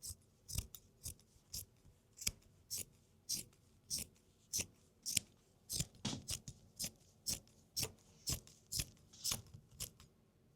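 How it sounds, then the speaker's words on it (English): Fabric scissors snip through the pile of a tufted rug in a steady run of about twenty crisp, close cuts, each a short crunchy slice spaced roughly half a second apart. "I actually have scissors that I've only ever used on fabric"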